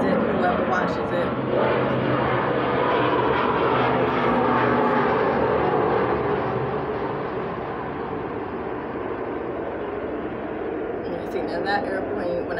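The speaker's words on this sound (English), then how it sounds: "that's when that airplane started roaring, coming up" An airplane engine roars overhead in a steady, loud, broadband drone that lasts throughout and eases slightly toward the end.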